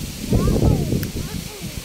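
Strong wind sweeps across open rice fields on an afternoon, buffeting the microphone with a low, rough roar that rises and falls over the two seconds, with faint voices mixed in.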